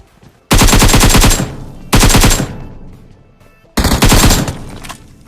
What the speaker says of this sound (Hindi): रोड के उस पार से मेरे को गोलियां चलने की आवाज आती है